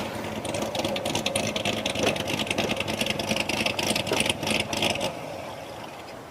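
A car engine idles steadily with a rapid, rattling, crackling exhaust during a traffic stop in Johnstown, a continuous buzzing rumble that eases slightly toward the end, with no talk over it.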